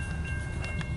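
A long CN intermodal mixed freight train rumbles past close by, a steady heavy roar with faint squealing tones and a couple of brief metallic clicks.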